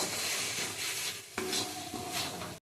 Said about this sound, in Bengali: নাড়তে নাড়তে ঠিক এইভাবে শুকিয়ে এসছে।